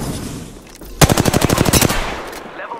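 Rapid automatic gunfire in Apex Legends, a burst of about a dozen sharp evenly spaced shots rattling out close and loud over a low game background, then trailing off.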